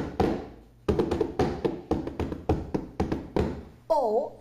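Bare hands tap an empty box like a drum, giving a steady series of hollow, dull thumps at an even beat, close and fairly soft, with a brief child-like vocal sound at the end.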